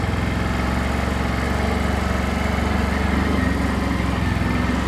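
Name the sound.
CFMoto CForce 1000 Touring ATV engine under light throttle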